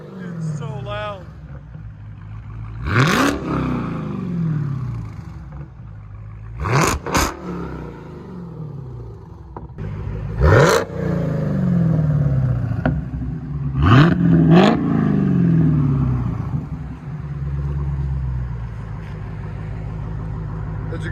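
Dodge Challenger SRT Hellcat with Black Widow exhaust revving in several sharp, loud bursts that rise and fall back to a rumbling idle, with voices talking between the revs.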